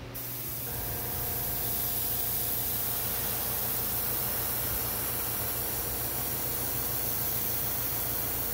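A paint spray gun hisses in a steady, loud continuous blast of air and atomized paint, starting abruptly and holding unbroken, with a faint low mechanical hum underneath.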